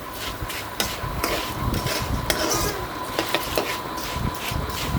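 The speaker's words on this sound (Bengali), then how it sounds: "ভালো করে একটু মুচমুচে হয় মতো ওভাবে করে ভাজতে হবে।" Flattened rice (chira) frying in oil in a pan gives a steady low crackle, broken by irregular knocks and scrapes of a spatula against the pan.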